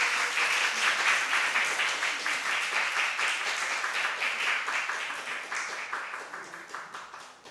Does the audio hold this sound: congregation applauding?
yes